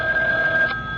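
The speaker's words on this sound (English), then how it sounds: "a ringing telephone makes me nervous." A telephone rings in an old-time radio drama, a steady, bright electronic ring holding for about a second before cutting off, close and clear with no talk over it.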